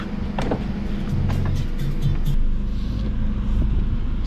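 A Mazda 3 with a long-standing misfire, engine running after the air cleaner was lifted, a close low rumbling idle with a few mechanical clicks and rattles over a steady drone.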